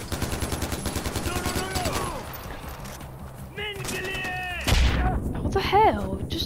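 AK rifle fire in the Far Cry 4 video game, heard as bursts of gunfire mixed with game sound effects and voices, moderately loud and partly masked by other in-game audio.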